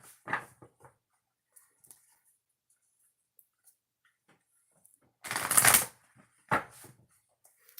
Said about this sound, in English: we're going to shuffle the cards